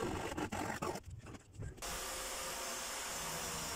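Pine laminate on boat gallows being sanded, a continuous rough, airy, mid-level rasp that briefly falters in a few pulses before settling into a steady drone.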